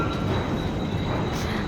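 Loud, continuous rumble and rolling hum of a train at a crowded Kanjur station on Mumbai's suburban rail line, with a thin steady whine riding over it and no voices.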